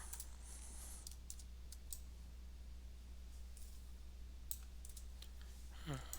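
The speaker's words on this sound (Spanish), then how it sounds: "tengo aquí problemas con este mouse" Faint, sparse clicks from a computer mouse that is acting up, with a few light taps scattered over a steady low hum of a quiet room.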